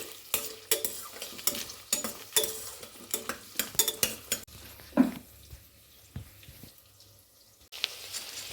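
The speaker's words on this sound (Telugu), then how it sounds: "ఉల్లిపాయ ముక్కలు కొద్దిగా వేగిన తర్వాత పచ్చిమిర్చి వేయాలి" Onion pieces frying in a pan for vegetable biryani, with a soft sizzle under repeated stirring scrapes and light utensil clinks, fairly quiet and close, with no talk.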